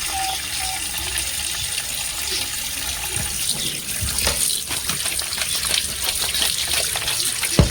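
Tap water runs steadily over skin-on meat pieces being washed one at a time in a sink, splashing and trickling close by throughout, with no speech.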